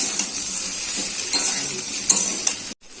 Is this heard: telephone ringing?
no